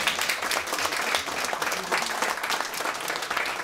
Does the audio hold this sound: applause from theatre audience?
yes